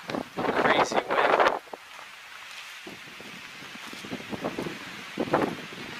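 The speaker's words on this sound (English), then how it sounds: "Crazy wind." Strong gusts batter the microphone on a grassy mountain top at about 6,200 feet in the Roan Highlands, a loud roaring burst, then lower rushing wind with intermittent rustling and thumps, and a speaking voice comes through briefly.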